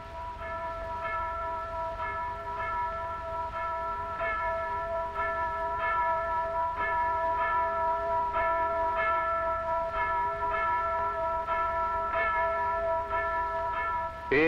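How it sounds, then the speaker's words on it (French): Church bells ring out for Easter in Cyprus, a steady pealing of several bells with repeated strokes over a continuous hum of overtones, fairly loud and alone with no voices throughout. "Et lorsque sonnent les cloches de Pâques,"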